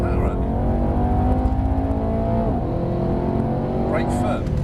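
Mercedes-AMG car accelerating on a driving course, a loud engine note climbing in pitch with gear changes and a brief drop midway, close and continuous.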